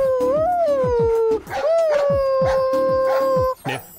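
A dog barks and howls up close in long, rising and falling wails broken by sharp yips and barks. People talk around it at moments.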